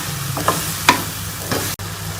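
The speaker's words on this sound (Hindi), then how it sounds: "इसमें ये सारे ड्राई मसाले डाल देंगे और इसको अच्छी तरह से मसाले को भून लेंगे टमाटर के गलने तक।" Dry spices and tomatoes frying in a pan for chicken tikka biryani, stirred with a utensil; a steady sizzle runs under a few scraping stirs at close range, with no talk.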